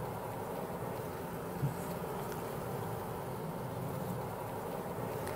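Honey bees around an opened beehive make a continuous, even buzzing hum at moderate level, with one soft knock partway through and no voices.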